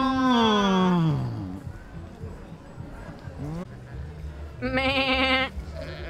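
A goat bleats in the film Jurassic Park, giving loud, close, wavering cries, one long falling bleat at the start and another near the end, with quieter low sounds between.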